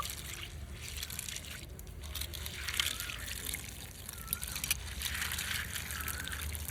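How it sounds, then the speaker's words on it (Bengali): Soybean chunks are rinsed by hand in a bowl of water, giving soft sloshing, squeezing and trickling sounds, quiet and close, with a faint voice underneath at times. "ভালো করে দুবার জল দিয়ে ধুয়ে পরিষ্কার করে নেব এইভাবে একটু ওগড়ে ওগড়ে ধুয়ে নেব"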